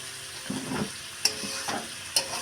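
Meat curry being stir-fried down in a pan, a soft sizzle broken by a few scraping strokes of a spatula and two sharp metallic taps, close and fairly quiet.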